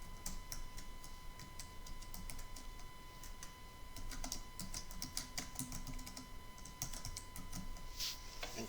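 Typing on a computer keyboard in a PowerPoint lab session gives a steady run of light, close key clicks with short pauses and a faint constant hum beneath.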